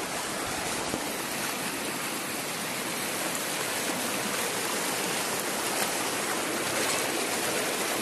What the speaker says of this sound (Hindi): पानी का फ्लो जो है बहुत तेज है।